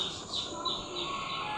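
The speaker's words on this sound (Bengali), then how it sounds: "হ্যাঁ, পাখি, হাঁস।" Cartoon bird sounds playing quietly from a screen, a few soft chirps and tweets over a faint room background, heard briefly at low volume.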